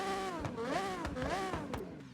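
A 7-liter V12 car engine in the Forza Horizon video game revs in repeated rising and falling sweeps, steady and close, with no talk over it.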